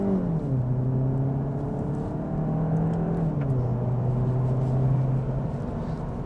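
Volkswagen Golf GTI Performance with 245 hp and a DSG automatic gearbox downshifting on the road, engine revs rising in distinct steps with each gear change, a loud close growl under steady road noise.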